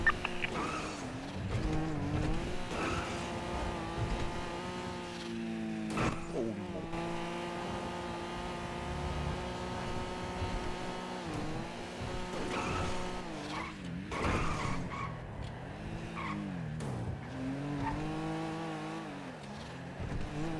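Car driving and skidding in a video game, an engine note rising and falling through gear changes with tire squeal and skids, continuous under intermittent talking.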